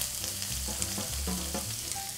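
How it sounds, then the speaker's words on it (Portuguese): Chopped onion hits garlic already sautéing in a pan, giving a full, close frying sizzle with a few knocks and scrapes of stirring and faint tonal clinks. "Já dei uma refogada no alho. Agora eu vou acrescentar uma cebola picada."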